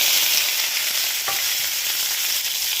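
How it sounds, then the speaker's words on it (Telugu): Loud, continuous sizzling of mustard seeds, cumin and chana dal tempering in hot oil, a steady crackling hiss with no voices. "ఆవాలు జీలకర్ర పచ్చెనపప్పు వేసుకున్నాం తాలింపు అయితే కాలింది"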